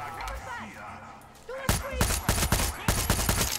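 Sharp, loud gunshots in Far Cry 6 crack in an irregular burst of about a dozen rounds after a quieter stretch of game ambience and a voice.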